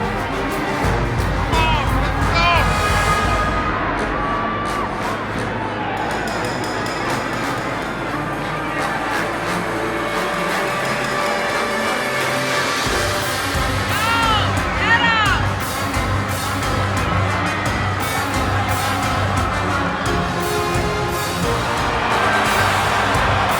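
The sold-out arena crowd in a wrestling video game makes a steady, loud roar of cheering and hubbub that goes on the whole time, with whoops rising out of the mass of noise.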